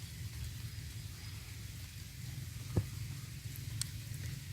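Steady rain falling outdoors, a soft continuous patter and hiss at moderate distance with a single faint sharp tap partway through; no voices.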